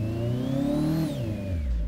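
A car engine in the racing game Japanese Drift Master, driven on a frozen lake, rises in pitch and then drops as a gear is shifted down, loud and steady with no talk.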